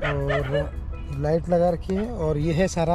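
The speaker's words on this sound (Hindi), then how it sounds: "सिर्फ ये है कि कुत्ते भौंक रहे हैं यहाँ पे" Dogs bark at night on the Yamuna riverbank in the Delhi Khadar camping area, with short yips and bow-wows mixed under a man's steady, close talking.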